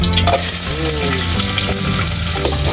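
Pork leg sautéing in a hot pan, giving a loud, continuous sizzle and crackle of frying with occasional stirring scrapes, close and steady throughout.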